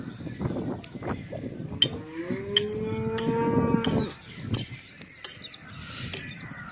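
Cattle moo in a garden with one long, drawn-out low call. Other rustling and clatter surrounds it, and no one speaks.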